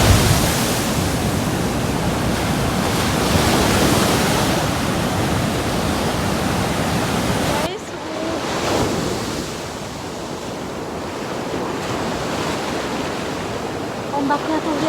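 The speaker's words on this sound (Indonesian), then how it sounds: "Pantai Samares ini punya deburan ombak sangat besar ya." Large surf crashes continuously on remote Samares beach facing the open Pacific, a loud broad roar of breaking waves with gusty wind noise across the microphone.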